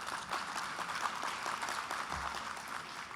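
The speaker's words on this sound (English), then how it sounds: "Everybody's applauding but Nashville, I can tell." A summit plenary audience in a large hall applauds, a faint, steady wash of many hands clapping at a distance, with no break across the span.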